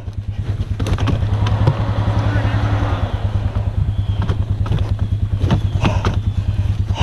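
A Yamaha Grizzly ATV engine runs with a loud, rapid, even thudding rhythm close by, steady throughout, while people talk over it.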